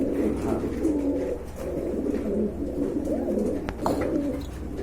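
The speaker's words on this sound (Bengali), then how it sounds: "এইখানে বন্ধুরা আরেক পেয়ার কবুতর রয়েছে, কোয়ালিটি ফুল কবুতর মাশাআল্লাহ খুবই সুন্দর।" Pigeons coo continuously in a low, rolling drone, close by and fairly loud.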